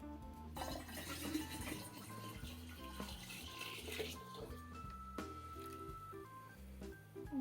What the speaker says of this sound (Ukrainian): Переливаю сюди наш розчин.